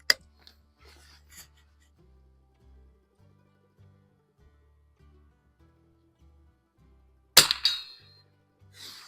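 An Anschutz Match 54 rifle fires Eley Cub rounds at 50 yards at a homemade fire extinguisher gong target: one sharp loud crack with a brief ringing tail, after quiet stretches of soft handling noises and a faint tap at the start.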